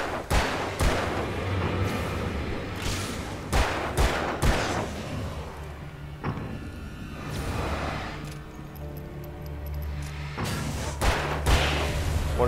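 Gunfire in the video game Alan Wake, a string of sharp loud shots fired in irregular bursts with heavy thuds, some reverb, and a low ambient hum between shots.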